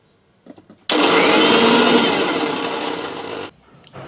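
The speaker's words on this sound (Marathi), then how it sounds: "हे मिश्रण आता आपण मिक्सरला बारीक करून घेणार आहोत" A mixer grinder whirs loudly for about two and a half seconds, grinding a finger millet mixture with asafoetida, starting abruptly and cutting off cleanly, with faint handling sounds before and after.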